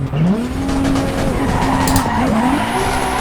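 A high-powered car in Assetto Corsa EVO with two-step launch control sits on the limiter, engine note held steady and warbling, with rising tyre-squeal-like tones, loud and continuous, no talk.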